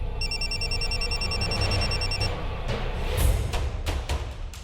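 A telephone bell rings in repeated electronic bursts for a couple of seconds over a low background hum, followed by faint clicks and shuffling, with no voices.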